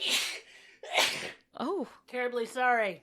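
Two sharp sneezes burst out one after another up close, followed by short spoken words of apology, with a gasping breath between them.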